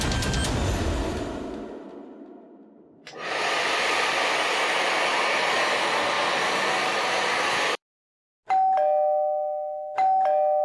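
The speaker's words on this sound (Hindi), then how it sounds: "एसी और हेयर ड्रायर की आवाज के ऊपर भी बेल की आवाज साफ सुनाई दे रही है।" Indoors, a doorbell rings over the rushing hiss of a hair dryer and the air-conditioning. The hiss fades, surges back loud, cuts out briefly, and then clear two-tone chimes sound twice, close and distinct.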